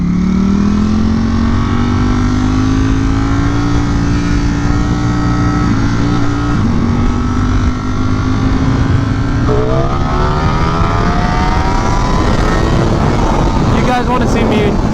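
A Ducati Streetfighter V4S motorcycle engine drones loud and steady throughout, its pitch rising and falling as it revs, with a sharper surge of throttle near the end.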